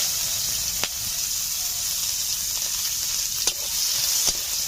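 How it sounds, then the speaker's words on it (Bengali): Chopped onion and black cumin seeds frying in leftover oil from fried fish, a steady hissing sizzle with a few sharp spatula taps, close and even throughout, nobody speaking. "এই তেলে দিয়ে দিচ্ছি আমি কালো জিরে ফোড়নে, পেঁয়াজ কুচি,"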